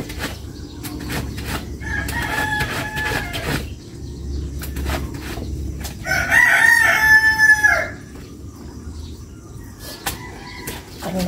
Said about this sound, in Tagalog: Kanina pa nagigising ang mga manok.